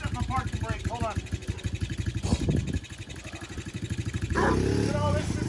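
A Suzuki LT125 quad's small engine runs close and loud, its steady rapid firing rising into revs near the end, with some speech over it.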